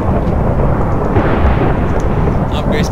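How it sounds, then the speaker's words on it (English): Thunder from lightning in a survival video game, a loud, deep rumble that rolls on for the whole stretch, with faint higher game sounds near the end. "That lightning is loud."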